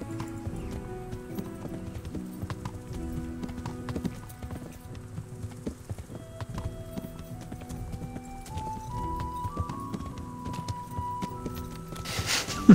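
A horse in the medieval video game Kingdom Come Deliverance walks with a steady, close clip-clop of hooves, repeating evenly over a quiet background of soft game music.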